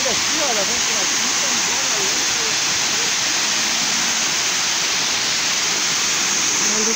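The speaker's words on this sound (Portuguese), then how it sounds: "É todo lado aqui da cachoeira, da cascata." Waterfall cascading in southern Brazil, a dense, constant hiss-like roar of falling water filling the whole clip, with faint voices and tonal calls showing through briefly.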